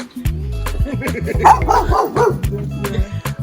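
Dog barking repeatedly at a poultry farm in Nigeria, a run of loud, close woofs and yips in quick bursts, with faint voices in the background.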